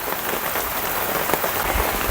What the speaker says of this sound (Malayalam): വലിയ മഴ വരുന്നുണ്ട്